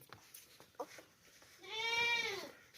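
A dairy goat gives a single drawn-out, fairly close bleat, preceded by faint scattered background noises.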